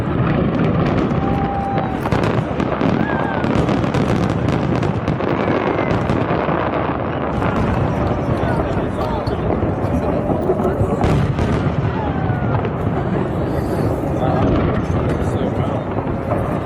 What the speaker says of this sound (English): We went on a large yacht from which we saw some spectacular fireworks.